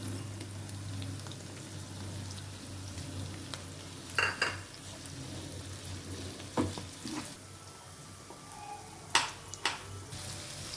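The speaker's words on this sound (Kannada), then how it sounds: "ಈಗ ಹೆಚ್ಚಿರ ಬದನೆಕಾಯಿ ಹಾಕ್ತೀನಿ" Chopped eggplant frying and being stirred in a pan of curry leaves and sambar powder, a steady low sizzle broken by a few short scraping stirs and clinks, close by with no talk.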